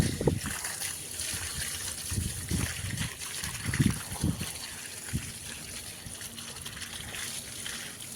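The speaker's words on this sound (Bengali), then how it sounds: "ডাইরেক্ট মোটর চালিয়ে জল দেওয়া হচ্ছে গাছে একদম।" A motor pump sprays water straight onto garden plants, making a steady rushing, splashing hiss with irregular gushes and spatter close by.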